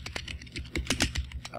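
Computer keyboard keys are tapped in quick, irregular clusters while piloting a rocket in Kerbal Space Program, close clicks and clacks with a faint voice in the background.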